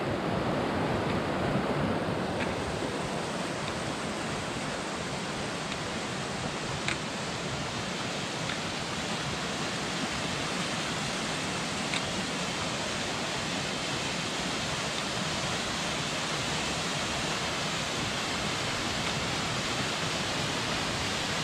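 A waterfall on the Thorang La trek in Nepal's Manang region gives a steady, dense rushing roar that stays constant from start to end with no voices.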